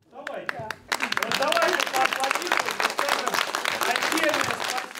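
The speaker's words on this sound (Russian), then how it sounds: "поднялось несколько человек, и их встретили аплодисментами." Applause from a seated audience at a Russian local awards ceremony honouring librarians with forty or more years of service, a few isolated claps swelling into steady, dense clapping that continues to the end.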